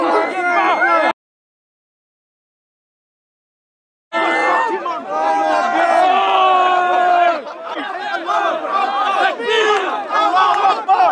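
A crowd shouting and yelling during a police intervention at Speakers' Corner in London: loud, overlapping voices and cries, cut by a few seconds of total silence before the clamour returns.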